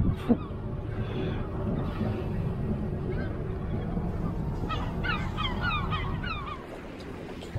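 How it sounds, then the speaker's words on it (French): Several seagull calls ring out in quick succession toward the end, aboard a sailboat at sea, over a steady low rumble of wind and background noise. "Les bruits des mouettes"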